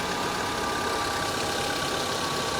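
A Renault Kangoo engine idles steadily just after a cold start, giving a constant, even mechanical hum with no speech over it.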